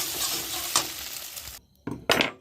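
An egg fries in a pan in a home kitchen while chowmein is being made, giving a steady sizzle broken by a few sharp scrapes and clinks of a spatula against the pan. There is no talking.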